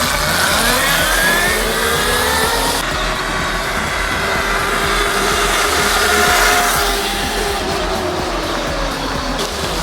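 A modified Funbike MXR1500 electric motorbike with a 5000 W motor rides past outdoors, its motor whine rising and then fading over steady wind and road noise, loud throughout with no talking.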